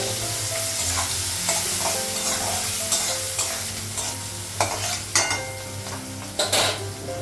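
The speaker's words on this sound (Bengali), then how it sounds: "পেঁয়াজটা ভেজে নেবো" Onions frying in oil for an egg curry, stirred with a spoon: a steady close sizzle with repeated clinks and scrapes against the pan, and no talking.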